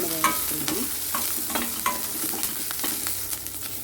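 Red-stemmed gongura leaves and green chillies stir-fried in a pan, close sizzling under repeated scraping and clanking of a spatula against the metal, irregular strokes throughout with no talking.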